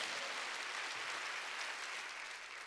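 A church congregation claps during a Wednesday worship service, a dense, steady wash of applause lasting throughout and slightly fading at the end.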